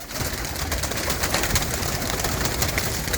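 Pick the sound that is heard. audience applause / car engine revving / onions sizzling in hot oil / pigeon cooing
pigeon cooing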